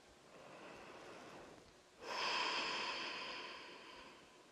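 A person takes a single deep, audible breath during a relaxation exercise, a soft airy exhale swelling suddenly and fading slowly in a quiet room.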